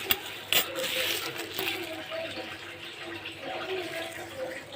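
Pieces of chicken go one by one into a wet, whisked marinade for grilled chicken, giving soft splashy, squelching plops with a couple of sharper knocks near the start, close and moderately loud with no talk.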